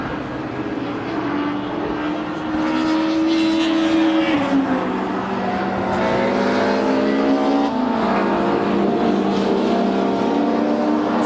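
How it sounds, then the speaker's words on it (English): Ford Mustang race car thundering down Paddock Hill at Brands Hatch during a classic and Thunder race, a loud sustained engine roar with a downshift midway and rising revs, heard from trackside. "This Mustang is making a lot of noise as it comes down Paddock Hill"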